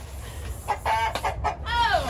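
Several chickens cluck in short, close bursts, one rising into a drawn-out crowing squawk, with people talking faintly in the background.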